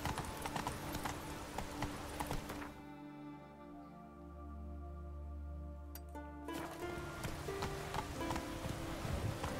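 Horse hooves clip-clopping in The Witcher 3, a steady rhythmic gait at close range with a brief quieter stretch midway.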